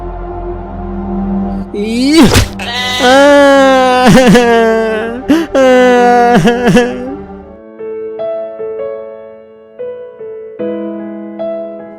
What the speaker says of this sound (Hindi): भेड़ बकरियों की देखभाल हाबिल करेगा।